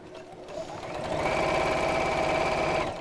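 A sewing machine stitching through a quilt during trapunto quilting, revving up into a steady, close mechanical whir with a fast rhythmic hum that holds evenly for a couple of seconds before easing off.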